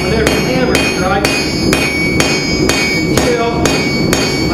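A blacksmith's hammer strikes hot steel while drawing a hook to a point, landing about nine sharp, ringing blows at a steady rhythm of roughly two per second. The workpiece is turned between strikes, and the hits sound close and loud with no talking.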